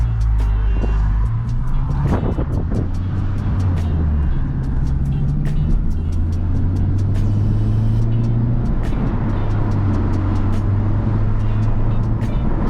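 Honda Civic Type R FK8 on Fortune Auto 500 Series coilovers driving on the road, with a steady engine and road-noise drone throughout, shifting pitch as it moves, plus occasional light clicks and rattles.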